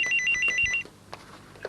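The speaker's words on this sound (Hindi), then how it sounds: "हो सकता है उनको फोन की आवाज ना आई हो" A telephone rings in a rapid electronic trill, then stops, followed by faint rustling and a couple of soft knocks.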